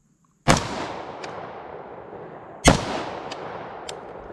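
A PSA AR-15 rifle fires two loud, sharp shots outdoors about two seconds apart, each followed by a long echoing decay and a few faint clinks.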